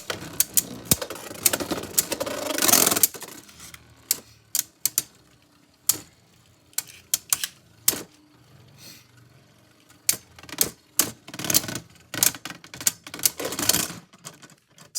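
Beyblade tops including the Xcalius spinning in a stadium, with sharp irregular clacks and collisions against quiet stretches, and a louder grinding scrape early on.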